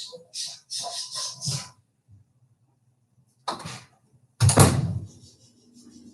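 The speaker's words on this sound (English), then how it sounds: "Let me shut my door." A door is pushed shut indoors, a loud close thump after a brief scraping movement, with budgies chirping in the room before it.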